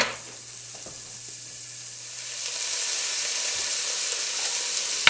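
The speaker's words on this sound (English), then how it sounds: "hopefully you can hear that sizzling a little bit as that's sweating out" Vegetables and aromatics sweat in a hot pan, giving a steady, soft sizzle that starts faint and grows slightly louder and fuller, with no voices over it.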